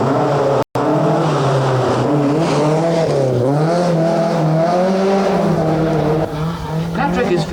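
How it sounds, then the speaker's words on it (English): A rally car is driven hard on a stage of the 1981 Mintex Rally, its engine loud and close, rising and falling through gears and revs with a brief break near the start. "Michelin-shod McRae is quickest at Patrick, despite spinning over the finish line"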